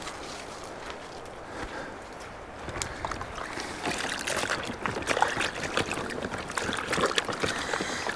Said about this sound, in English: I'm washing dishes with like 8 ounces or 16 ounces of water here.